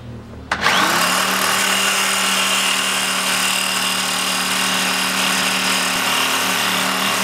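A power saw cuts through a seized rear-suspension camber bolt on a 2008 Mitsubishi Pajero, starting abruptly after a brief pause and then running as a loud, steady, continuous whine and grind with no talk.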